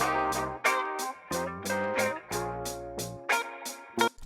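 A second hi-hat pattern from an old-school FL Studio beat, with crisp repeated hits at a regular pulse over a bed of chordal synth or sample tones. No voices are heard.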